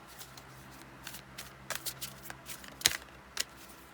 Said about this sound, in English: Being guided to shuffle again.